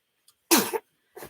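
A single sharp, loud human sneeze bursts out close by, followed a moment later by a softer second exhale or sniff in an otherwise quiet indoor room where someone is making a quilt block.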